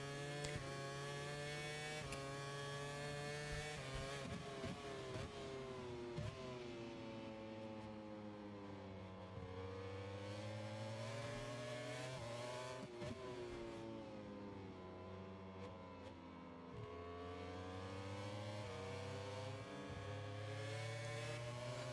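A continuous engine drone with shifting pitch as a racing motorcycle in the video game MotoGP 25 revs up and down through gears, steady and loud throughout with no talk.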